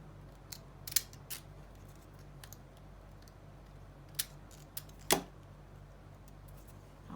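Scissors snipping cardstock to straighten the edge of a faux fabric postage stamp, heard as a few sharp, quiet clicks and cuts scattered over a low steady hum.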